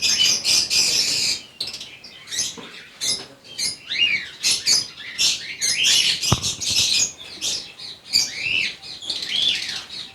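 A pair of cream cockatiels sitting on eggs calls loudly and close, with continuous shrill chirps, whistles and squawks overlapping in a busy aviary chorus and no talking.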